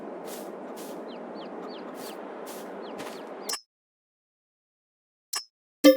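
Chickens and a rooster in the farm video game Farming Simulator 22, soft repeated clucks over a dense barnyard murmur for a few seconds, then silence broken by two brief sharp sounds.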